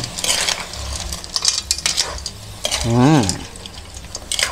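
A utensil scrapes and clinks around a pot as papaya is stirred into a chicken tinola soup, close and uneven, with a brief voice-like tonal sound midway.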